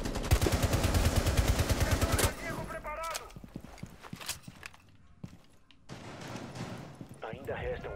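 Gunfire in a Rainbow Six Siege match: a dense, loud burst of rapid shots for about two seconds, followed by scattered single shots and footsteps, with players talking over it.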